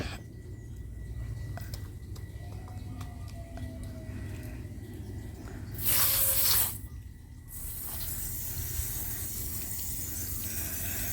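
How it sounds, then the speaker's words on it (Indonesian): Short burst of hissing spray as water is sprayed onto an aglaonema houseplant, about a second long against a quiet room background. "Kita akan siram secukupnya saja."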